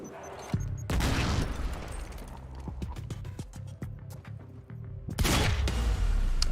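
Shotgun blasts in the video game Quantum Break come as loud, sharp booms with sustained rushing noise, separated by a run of rapid clicks and impacts in between.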